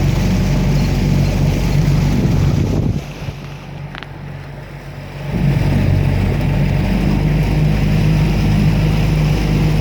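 A small rigid inflatable boat motors across Howe Sound near Anvil Island, its engine droning loud and low with heavy wind rush on the microphone, easing off briefly mid-run before surging back to full throttle.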